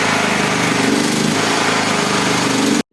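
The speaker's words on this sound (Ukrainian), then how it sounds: "генератора, що нестабільно робить" A Sigma generator engine runs unstably, making a loud, rough, continuous close drone with a slightly wavering pitch that stops abruptly at the very end.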